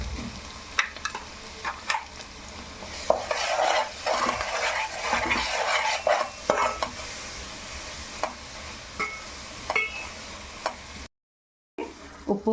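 Onions and spice paste fry in a pan for a Godavari koyyinga fish curry, producing a busy close-up sizzle with spatula stirring and scraping strokes that swell and fade, then a brief cut to silence near the end.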